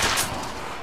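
Gunfire from the video game The Order: 1886, a sharp loud shot at the start trailing into a rumbling, reverberant decay.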